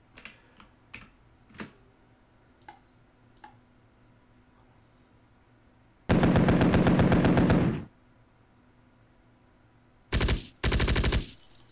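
Gunfire in the WinSPMBT war game, starting with a few scattered sharp single shots, then a loud two-second sustained burst, and later two more rapid bursts close together.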